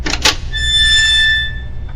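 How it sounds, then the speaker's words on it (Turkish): A door creaks open in a horror video game: two short knocking clicks, then a drawn-out, high, squealing creak that swells and fades away. "Kapıyı açıyorum hadi."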